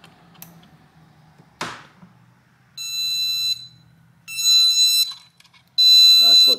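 An AM5 motherboard's onboard speaker, with a processor fitted but no RAM, gives a beep code of three steady electronic tones, each roughly a second long, following a short click and faint background noise.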